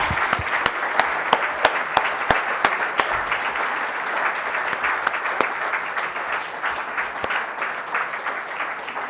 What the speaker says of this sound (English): Let's give a round of applause for this extraordinary family.